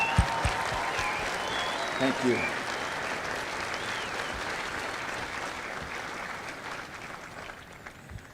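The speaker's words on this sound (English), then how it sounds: "please join me in a well-deserved round of applause for the drill instructors and families of" Sustained crowd applause for drill instructors and families at a Marine Corps recruit graduation at MCRD San Diego, steady dense clapping throughout with a brief spoken thanks over it.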